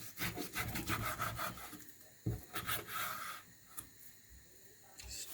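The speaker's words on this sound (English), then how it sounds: "So the pork belly, I'll show you how I'm dicing." Knife dicing pork belly on a wooden board for a Goan pork stew, giving repeated rough cutting and scraping strokes in uneven bursts, close and moderately loud with short pauses between.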